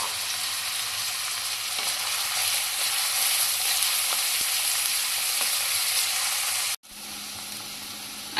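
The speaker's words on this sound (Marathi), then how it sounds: "आता आपला कांदा तांबूस रंगाचा झालेला आहे। मी तेलात चांगला परतून घेतलाय।" Finely chopped onions frying in oil for a Konkan-style dried shrimp (sukat) dish, a dense, steady sizzle close by, broken by a brief cut near the end before the crackle resumes.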